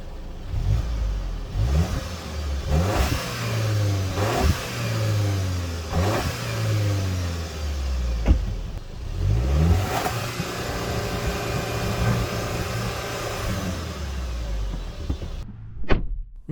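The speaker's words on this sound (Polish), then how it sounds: "A tak brzmi wydech." Seat Leon Sportstourer FR with a 2.0 TSI 190 engine and 7-speed dual-clutch DSG is revved repeatedly from inside, its exhaust rising and falling in several sharp climbs, loud and close with no talk.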